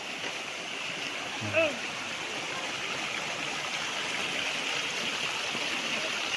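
A natural spring on a farm lot in Lucban, Quezon flows with a soft, steady watery rush, low and continuous, broken once by a brief splash-like blip.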